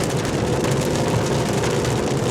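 Rain falling in wet weather around a 2024 Subaru Crosstrek, a dense, steady hiss and patter heard from the car, loud and continuous for the whole short stretch with no talking.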